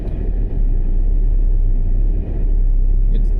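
A 2008 Buick Lucerne idling in drive with its engine hunting, a loud close low rumble that swells and dips briefly as the idle wavers.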